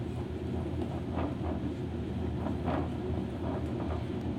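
A pottery wheel spins with clay on it, giving a steady, even low rumble that holds without pause throughout. No one speaks.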